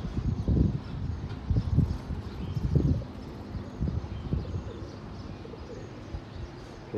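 Pigeons settle with a few low coos and bursts of wing flutter in the first seconds, then quieter ambient rustling follows.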